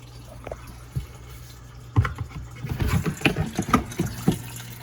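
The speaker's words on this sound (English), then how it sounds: "So the water drains out through here, and then it goes into my sump" Water from a small aquarium drains into an aquaponics sump, first quiet with a few faint drips, then a splashing, gurgling trickle of flowing water starting midway and continuing up close.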